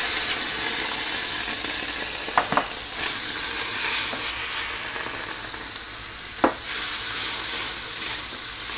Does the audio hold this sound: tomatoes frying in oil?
yes